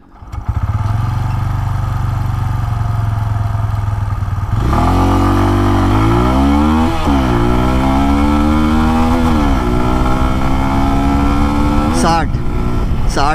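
A Bajaj Pulsar N125 motorcycle idles steadily nearby, then is revved hard at full throttle. The engine note climbs and falls in repeated loud surges, staying close and continuous to the end.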